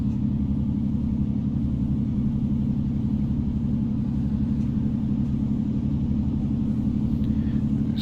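A Class 153 diesel unit in Train Simulator Classic pulls away under power, giving a continuous loud low engine rumble with a steady throbbing drone and no talk.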